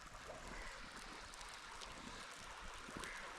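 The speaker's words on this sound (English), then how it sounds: "So I got some water boiling." Water boiling steadily in a pot over a campfire outdoors, a continuous rushing, bubbling hiss with no pauses or voices.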